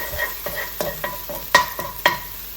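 Chilies roasting in a pan over a very high flame, with sizzling broken by several sharp stir-and-scrape bursts as they are tossed, up close and loud with no talk.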